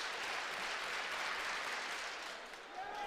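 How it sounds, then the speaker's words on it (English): Sustained applause from the infield crowd at a university track and field championship, a steady dense wash of clapping for a high jumper's final attempt, fading slightly near the end. "he will get the slow clap from the infield crowd"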